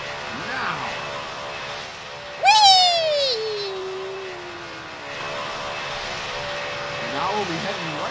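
Airplane engine sound in a pilot training simulator video game, with a sharp rise at takeoff followed by a steady drone and a descending whine, while people talk and cheer over it.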